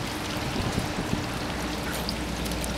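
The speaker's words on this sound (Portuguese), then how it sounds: "uma cascatazinha com muita criatividade" A small decorative stone waterfall beside a stone-built petrol station trickles with a steady, close, even wash of flowing water, with no voices over it.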